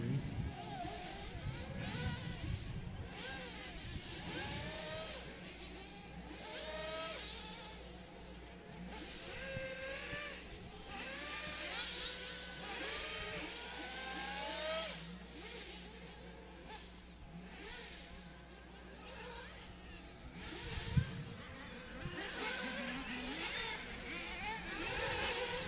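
RC race cars lap the track at a Halloween racing event, their motors whining up and down in overlapping sweeps at a distance, while a voice talks over the steady background.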